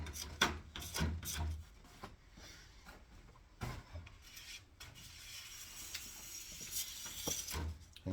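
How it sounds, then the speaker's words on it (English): A sharp scraper is dragged over hard cold ski wax in repeated rasping strokes, close and fairly quiet, some strokes louder and grittier than others with short pauses between. "You'll find these are a little harder to scrape, these cold waxes."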